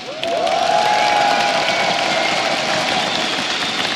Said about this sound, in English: The crowd here is definitely excited.